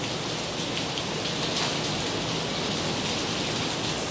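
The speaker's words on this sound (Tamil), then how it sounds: "அங்கே பாருங்க மழை எப்படி வருதுன்னு. எங்க மழை செம்ம வேறு லெவலாக வருது." Heavy rain pours down steadily outside during a downpour, a dense, even hiss of falling drops that stays loud and unbroken throughout, with no voices.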